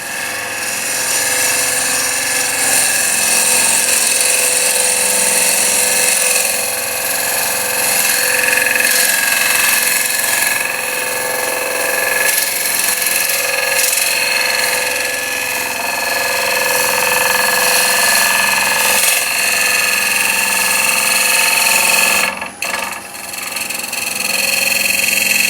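A wood lathe spins a resin and wood bowl while a gouge cuts it, producing a loud, continuous motor hum with tonal whine and a steady scraping hiss. The sound stops briefly near the end.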